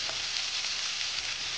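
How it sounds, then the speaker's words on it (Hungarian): Chorizo and thick-cut potato fries frying in about six decilitres of oil, a steady dense sizzle with no pauses, close and fairly loud. "és a hasábunk is gyönyörűen sül."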